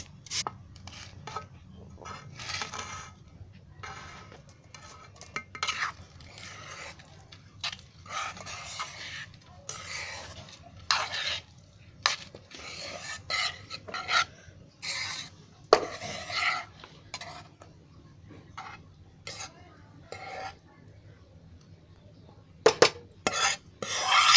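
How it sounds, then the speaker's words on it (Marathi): Rice and vegetables for a Konkani veg pulav being mixed in a kadhai, with repeated scraping and clinking of a utensil against the pan in irregular bursts, moderately close and without speech. "हा भात मग सर्व मिक्स करून आहे ना त्या कढईमध्ये टाकते"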